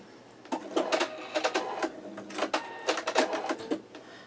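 A sewing machine sews pieces of a chandelier quilt block, a close series of short, stuttering bursts of rapid stitching separated by brief pauses, with no talk.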